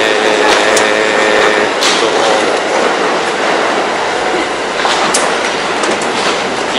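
The JFK Airport AirTrain in New York runs steadily with loud broadband rumble, rhythmic wheel clatter and occasional high squeals, close and continuous throughout.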